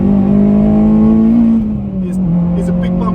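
A Honda Civic Type R fitted with a K24 engine drives along, its engine note steady and loud inside the cabin before easing off slightly, with a voice talking over the drone.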